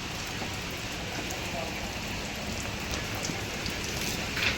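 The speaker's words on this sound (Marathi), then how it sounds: "थोडासा पाऊस जास्त होता म्हणून मी थोडा वेळ थांबले तुम्हाला दाखवलंच मी पाऊस आणि आता थोडासा बारीक पण चालूच आहे" Light rain falls steadily in a village in the Konkan, a soft continuous patter of drops on surfaces all around, even and unbroken, with a faint brief tap near the end.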